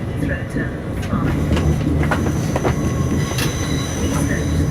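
A Heathrow Express Class 332 train runs on the non-stop line from London Paddington to Heathrow, its steady rolling rumble and wheel squeal heard from on board, with faint speech underneath.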